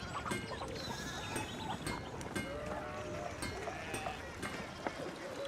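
Sheep in the medieval game Pentiment bleat repeatedly from near and farther off, scattered calls over soft ambient farmyard noise with light clinking of bells.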